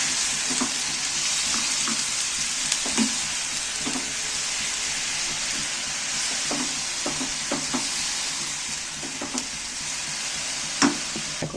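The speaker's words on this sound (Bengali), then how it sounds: "কাজুটা ভাজা ভাজা মতো হয়ে এসছে" Cashews fry in ghee in a pan for a carrot sweet, with a steady bright sizzle throughout and occasional soft stirring clinks and scrapes, close and alone with no talk.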